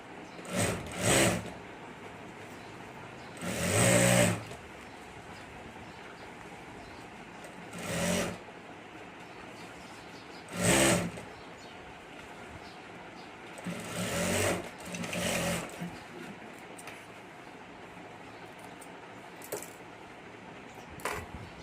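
A sewing machine stitches along the top of a handmade hand bag's second side in several short separate bursts, with quiet pauses between runs.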